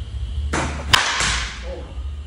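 A single sharp crack of an Axe composite wood bat striking a ball, followed by a brief reverberant tail in an otherwise quiet outdoor setting.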